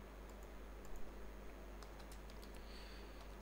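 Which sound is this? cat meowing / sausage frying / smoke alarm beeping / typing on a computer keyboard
typing on a computer keyboard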